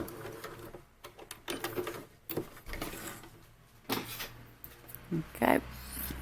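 A sewing machine stitches a zigzag seam across a skirt join, giving short bursts of rapid mechanical chatter with pauses, close by, while someone talks over parts of it.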